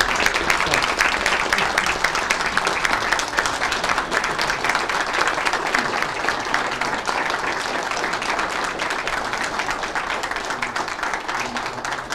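An audience at a county board of education monthly meeting in Sullivan County, Tennessee applauds steadily, a dense, even wash of clapping that holds for the full stretch with little rise or fall.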